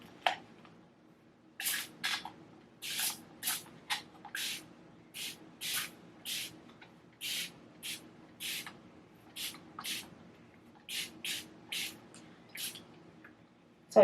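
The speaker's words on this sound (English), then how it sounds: "Start by spritzing your hair with water." A spray bottle spritzes water onto 4C hair in a long series of short, crisp bursts, some quick doubles, close by in an otherwise quiet room.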